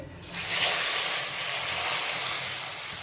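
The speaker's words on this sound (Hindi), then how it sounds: "अब मैं इसमें ऐड करूँगी 2 से 3 चम्मच दूध के।" Two to three spoonfuls of milk hit hot besan halwa cooking in desi ghee and set off a sudden loud hiss that stays as a steady, strong sizzle, with no talk.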